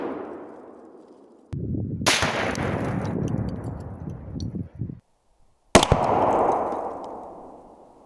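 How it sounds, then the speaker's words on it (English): A .338 Lapua rifle fired at a Humvee ballistic windshield outdoors: two sharp, loud cracks several seconds apart, each with a booming low rumble that decays, the second followed by a long echoing tail. "We're going to chamber it. Safety's off. I'm gonna start the countdown. 3, 2, 1, fire."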